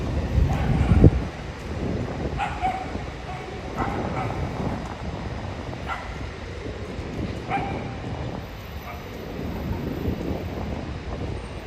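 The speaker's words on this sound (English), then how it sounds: "the smallest dogs make the most noise" A small dog barks repeatedly in sharp, spaced yips on a busy New York City street, set against steady traffic and wind rumble, with a loud thump near the start.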